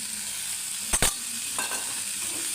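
Green chili, onion and garlic fry in a couple of spoons of oil for tomato chutney, giving a steady close sizzle broken by two sharp utensil knocks midway, with no voices.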